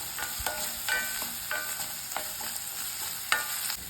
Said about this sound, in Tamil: இஞ்சி பூண்டு பேஸ்ட் வந்து பச்சை வாசம் போகிற வரைக்கும் வதக்கலாம்